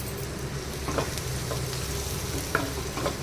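Spices, with a little ground black pepper added, frying in hot oil in a pan for a green chicken dish, a steady soft sizzle with light stirring scrapes and a few brief clinks.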